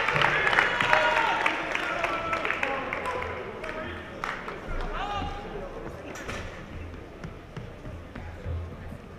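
Audience applause at a military academy talent show breaks out as the next act is introduced, steady clapping with scattered cheers from a crowd, fading gradually over several seconds.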